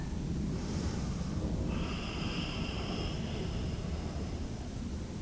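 Deep, slow Ashtanga yoga breathing, a hissing inhale and exhale through the nose and throat, close and steady over a noisy background.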